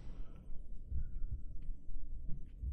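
Heartbeat in the horror video game Dungeon Nightmares, a low, muffled thumping pulse repeating at a steady rhythm roughly every half second, close and soft over a faint hum.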